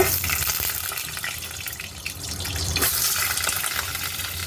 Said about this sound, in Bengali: আলুগুলো আমি লাল লাল করে ভেজে নেবো